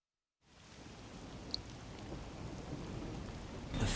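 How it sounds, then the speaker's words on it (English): Steady rain pours down in a video game, a dense broadband hiss that fades in after a moment of silence and grows slightly heavier toward the end. "The faint sound of a ticking clock melts against the sound of rain."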